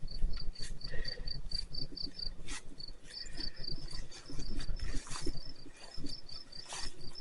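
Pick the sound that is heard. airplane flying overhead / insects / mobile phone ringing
insects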